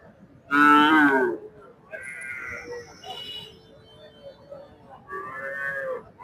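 Large cattle at a livestock market give several loud, drawn-out moos: one strong close call early, then shorter lowing calls spaced through the rest of the clip.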